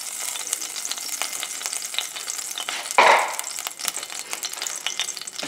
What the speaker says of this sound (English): I'm going to brown the meat.